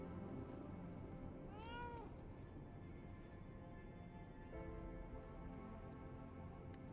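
Cat meowing in the video game Lies of P, one clear meow with a fainter second one later, over a dense low ambient rumble.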